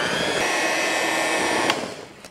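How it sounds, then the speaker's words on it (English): An electric mixer with beaters runs on low through blueberry muffin batter, a steady, close, continuous whir that holds evenly and then tapers off at the end. "I'm gonna give it one final mix with the beater"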